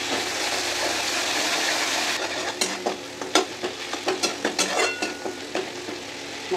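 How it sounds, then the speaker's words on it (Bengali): Tomatoes cooked down with a little turmeric are stirred in a hot frying pan, a steady oily sizzle giving way to a run of close, rhythmic scraping strokes of the spatula against the pan. "টমেটোগুলো নরম হওয়া অবধি ভালো করে নাড়তে হবে।"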